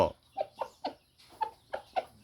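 Several short, sharp clucks from a nearby ten-month-old gamefowl chicken, spaced a little apart, with a brief pause midway.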